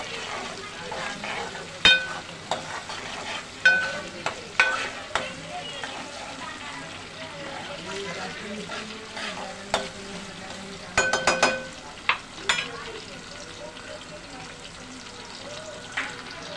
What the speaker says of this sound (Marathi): याचं चांगलं फिरवायचं याला लसूण जिरं मोहरी टमाटर मिरची हे असं ब्राऊन झालं पाहिजे